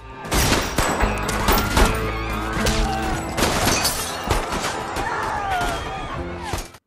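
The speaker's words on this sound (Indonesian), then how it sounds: "seketika aksi baku tembak pun gak bisa dihindarkan" Rapid bursts of gunfire crack repeatedly over several seconds in a film shootout, loud and dense like a close-range shootout, with glass shattering and faint voices mixed in.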